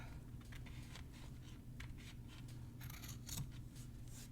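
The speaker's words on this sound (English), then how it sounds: "And trim the excess fabric." Scissors trimming excess fabric on a no-sew Fourth of July zig zag flag ornament; quiet repeated snipping cuts, close and faint, with no talking.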